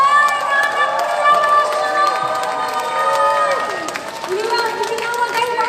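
A large religious congregation claps and shouts together, a dense crowd roar with raised voices and scattered clapping, loud and sustained throughout.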